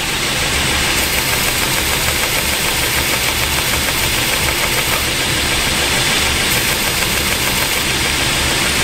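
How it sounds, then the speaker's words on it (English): Bench grinder or belt sander running steadily at reduced speed while sanding a knife handle at 220 grit, a loud continuous whir and hiss throughout with no talking. "you might even find that you want to go slightly slower on the grinder"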